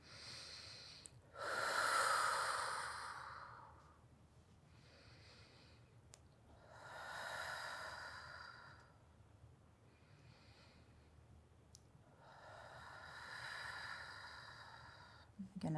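Slow, deep breaths during a restorative Pilates stretch on an arc, close and breathy, with three long airy exhales spaced several seconds apart and quiet pauses between them.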